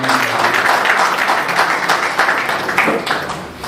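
Audience at a district-level journalists' conference of the IFWJ in Jaisalmer gives a loud, sustained round of dense applause that fades slightly toward the end.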